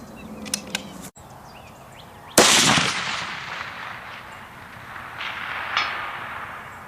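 A Blue Mountain Tactical .308 rifle fires one loud, sharp shot toward an 800-yard target, the report rolling away in a long outdoor echo after faint earlier clicks.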